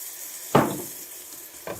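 Ripe plantain being stirred in a pan, two short scraping strokes, the first louder and longer, over a faint steady sizzle with no talking.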